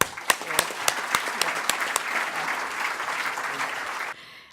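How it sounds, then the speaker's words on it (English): A round of applause for award winners at an awards ceremony, with a few sharp, close handclaps standing out over the steady crowd clapping before it cuts off abruptly. "A round of applause."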